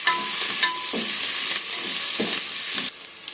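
Chili, garlic and onion fry in a pan with a constant close hiss, broken by several stirring scrapes. The sizzle dips slightly near the end, and no one speaks.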